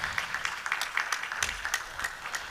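Conference audience keeps clapping for an arriving ambassador; uneven handclaps from a modest crowd, individual claps distinct and fairly close, steady throughout without voices.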